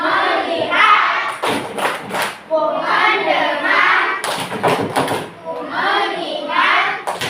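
Children clap a rhythmic focus routine in a classroom, bursts of patterned clapping between chanted words, close and loud with the teacher and kids speaking over it.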